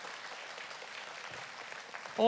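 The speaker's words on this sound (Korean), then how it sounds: "인사 한번 드릴 때 크게 한번 박수 한번 해주십시오." A church congregation applauds during a Sunday service, with a soft, steady patter of many hands clapping at a distance, ending in a brief louder tonal sound.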